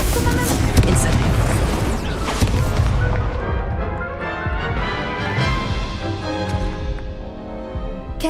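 Spell blasts from the Hogwarts Legacy video game crash and boom in quick succession, loud and dense at first and then fading into a ringing, sparkling tail. A voice speaks over the effects.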